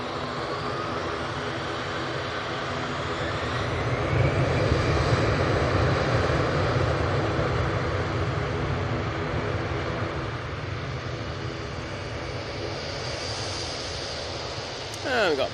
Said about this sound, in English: we've got a prop coming towards us now